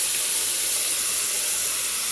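Minced garlic, tomato and vegetables for a tomato sauce sizzle steadily in a hot pan, a close, even, bright hiss with no talking.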